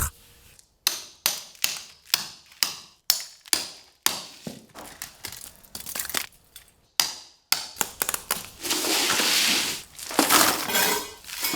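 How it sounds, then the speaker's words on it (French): Old plaster render being knocked and scraped off the sides of a wall, a series of sharp, evenly spaced loud strikes that give way to rougher grinding and scraping near the end. "élimine encore le crépi sur les côtés sur au moins 10 cm"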